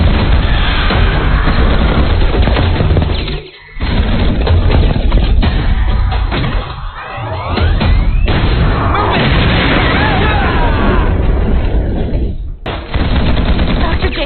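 Gunfire and explosions in an animated battle, dense continuous loud rapid-fire shots and booms, with brief drops in the barrage and faint shouted voices underneath.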